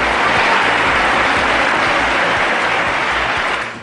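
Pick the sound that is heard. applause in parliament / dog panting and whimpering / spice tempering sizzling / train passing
applause in parliament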